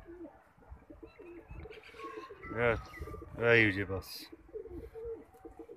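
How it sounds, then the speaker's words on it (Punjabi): Pigeons kept by a fancier coo in soft, throaty bursts, two louder rolling calls standing out near the microphone, with brief talk over a quiet background. "ਆਹ ਚੰਦ ਕਬੂਤਰ ਨੇ"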